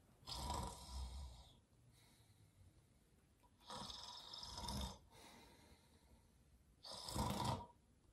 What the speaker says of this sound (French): Il se mit à ronfler si fort